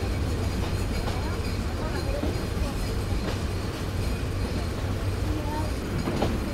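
Sundarban Express passenger train running at speed between Dhaka and Khulna, a steady loud rumble of wheels on track with faint rhythmic rail clatter throughout.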